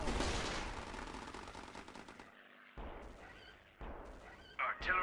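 Gunfire opens up in the strategy game Battle Islands Commanders: dense, loud bursts of machine-gun fire crackle nonstop, then give way to sparser shots and a couple of sharp, close reports near the end.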